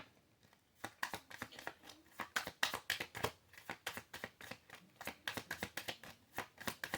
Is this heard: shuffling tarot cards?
yes